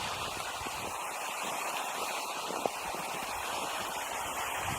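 Steady hiss of sea waves washing on shore in Norway at night, fairly faint and continuous, with one brief click partway through.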